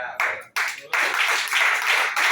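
An audience at a ceremony in Kasaï Oriental bursts into loud, close applause in several surges, dense clapping with possible cheering, briefly dipping before swelling again.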